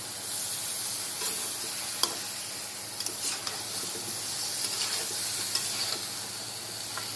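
Bitter gourd cooking in a pan alongside rohu fish curry, a low steady sizzle and hiss with scattered faint clicks and stirring taps.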